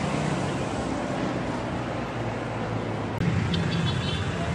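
Heavy road traffic along Quirino Highway during a bike ride, a dense continuous roar of engines and wind noise, with a bump in the rumble partway through and no talking.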